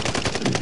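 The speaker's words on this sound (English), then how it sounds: "I did all that fucking shooting." Rapid video game gunfire in a multiplayer shooter match, a dense burst of overlapping shots filling the whole moment at steady loudness with no pauses.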